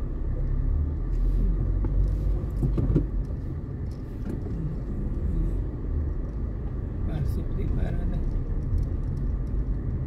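Heavy car traffic on highway BR 381 in Brazil makes a continuous low rumble of passing vehicles, with occasional louder swells, while people talk nearby.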